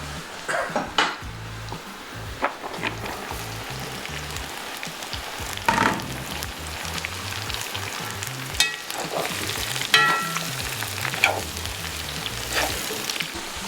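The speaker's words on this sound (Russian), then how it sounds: "Вот теперь уже пора бросать морковку." Carrots dropped into caramelized onions frying in oil for Uzbek plov cooked outdoors on a hunting trip, with a steady close sizzle under repeated metal ladle scrapes and clanks against the pot.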